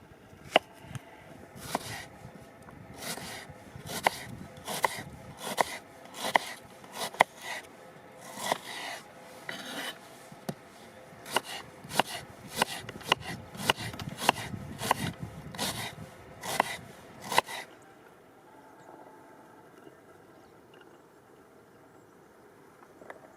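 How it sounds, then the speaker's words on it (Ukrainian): A knife slices an onion into half rings on a board, crisp irregular cuts in a steady run that stop near the end, close by and fairly quiet. "а тепер нарізаю цибульку на півкільця."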